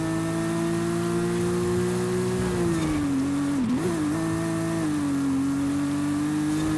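Mercedes-AMG Black Series engine in Forza Horizon 5, a steady loud drone that holds its pitch, briefly dips and wavers mid-clip, then settles back to a sustained high-revving tone with no talking.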